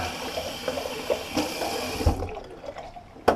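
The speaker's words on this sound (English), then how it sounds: "Sorry about running the water, I know." Tap water runs into a bathroom sink during a shave, a close, steady splashing stream with a few knocks and clicks, cutting off abruptly near the end before one last sharp tap.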